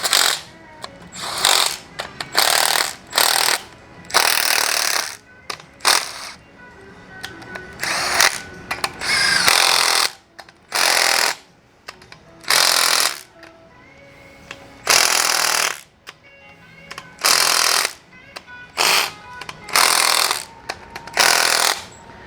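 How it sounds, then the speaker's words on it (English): Rear axle bolts are torqued down with a small pneumatic impact gun, heard as repeated loud hammering rattles in short and long bursts separated by brief pauses, with no talk. "That little gun will make about 70 foot-pounds of torque"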